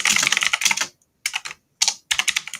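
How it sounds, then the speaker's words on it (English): Loud computer keyboard being typed on in quick bursts of clacky keystrokes, separated by short pauses, close and alone. "Me and my super loud keyboard."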